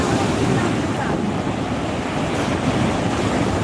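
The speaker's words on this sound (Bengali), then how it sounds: "দেখতে থাকুন নিউ দীঘার সৈকতে জোয়ারের মুহূর্ত" High-tide waves surging onto the sand at New Digha beach, a steady, dense roar of surf mixed with wind buffeting the microphone, continuous and fairly loud throughout with no voices.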